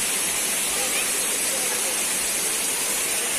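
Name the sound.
waterfall at Daranak Falls, Tanay, Rizal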